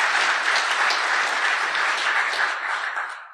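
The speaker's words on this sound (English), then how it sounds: "Let's give a round of applause for James for all his awesome research" A conference audience applauding a security researcher named James, dense sustained clapping filling the room, loud and even before tapering off at the end.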